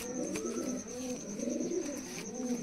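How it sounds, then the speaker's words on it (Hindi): A black Chinna pigeon coos in a steady run of soft, low, rounded calls, close and continuous over a faint background hum, with no talking. "काला चिन्ना कबूतर है देख सकते हो"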